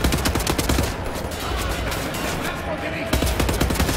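Dense, rapid gunfire from the first-person shooter Wolfenstein: The New Order, loud and continuous bursts that ease off midway and then surge back, with faint talk mixed in.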